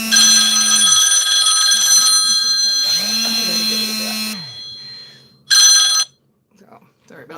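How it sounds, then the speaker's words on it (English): A telephone rings in bursts of bright, sustained electronic tones, fairly loud and close, alongside a whirring tool-like tone; a voice talks in between the rings. "I don't know if you could hear the phone ring on there or if it mixed it out, but my phone started ringing"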